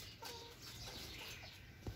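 Chickens kept in an old coop on a rural farm give a few soft clucks and short calls, faint and fairly close against low background hiss.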